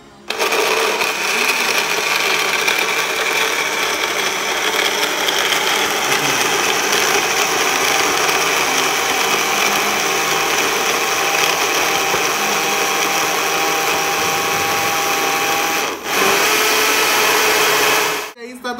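A blender runs loud and continuous close by, grinding and rattling through ice for a mango shake, then stops briefly and roars again before cutting off.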